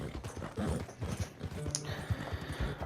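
Horse hooves clopping at a steady walking rhythm in Red Dead Redemption 2, moderately loud and close, with a dense game soundscape running underneath.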